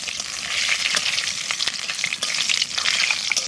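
Whole cloves, cinnamon and cardamom sizzle in hot oil, alongside bay leaf, while a Bengali country chicken curry is being made: a steady, loud, crackling fry with small pops throughout.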